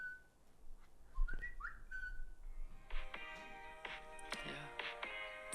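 Someone whistles short sliding notes, then a quick run of higher trills, fairly close and moderately loud over a quiet background.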